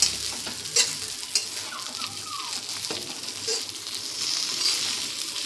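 Neem leaves being stirred into fried eggplant in a pan for nim begun, a soft scraping stir over a low, steady sizzle with a few brief clinks, close and moderately quiet.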